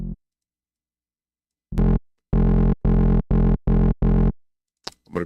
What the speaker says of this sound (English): Go to effects, add some distortion.